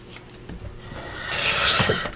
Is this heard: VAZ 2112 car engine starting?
no